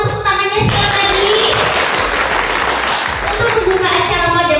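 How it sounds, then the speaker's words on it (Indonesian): Audience applause at a Surabaya event welcoming the owners of Batik Benang Raja, a dense steady wash of clapping from a crowd, loud and sustained, with a voice talking over it. "Mohon tepuk tangannya sekali lagi."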